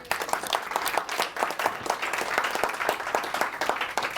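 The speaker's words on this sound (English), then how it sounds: "Applause for Sarah." An audience applauds steadily after a speaker finishes a presentation, with dense, continuous clapping and a few brighter claps standing out, sustained at an even level throughout with no talking.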